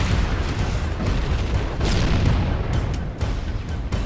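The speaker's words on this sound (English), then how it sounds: "Feel free to shoot me all you want with your tanks." Heavy booming tank cannon fire in Halo: Combat Evolved, with loud continuous rumbling blasts and explosions layered densely over several seconds, with no talking.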